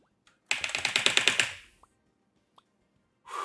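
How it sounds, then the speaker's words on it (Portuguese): Rapid computer keyboard typing comes as a close burst of about a dozen crisp keystrokes in quick rhythm, trailing off into a few isolated clicks before a brief voice enters at the end. "escutei teu teclado daqui"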